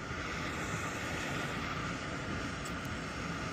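Steady, loud whirring drone of an HVAC furnace inducer motor running continuously, with a broad even hum and airy rush filling the whole clip and no voices.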